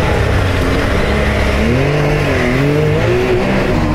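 A Volkswagen Beetle engine in a Baja buggy build runs steadily and loudly up close, its droning note wavering and rising slightly, with no talk over it.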